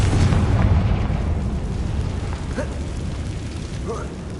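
Bombarda spell blast in Hogwarts Legacy, a heavy booming explosion at the start that rolls off into rumbling debris and crackle, followed by a couple of smaller pops.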